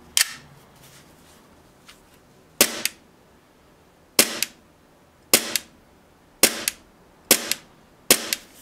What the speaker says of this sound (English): This is dry fire.